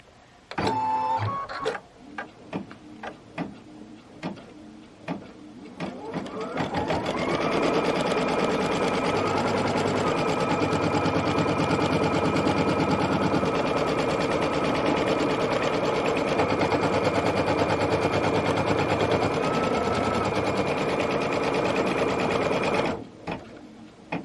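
An embroidery sewing machine stitches an outline on a framed project, starting with a few clicks and short mechanical bursts, then settling into a loud, steady, close whirring stitch rhythm before stopping abruptly near the end.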